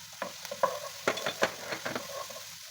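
Onion, garlic and ginger stirred in a hot pan for machbous, giving irregular scraping stir strokes over a soft, steady sizzle, fairly close and quiet, with no talking.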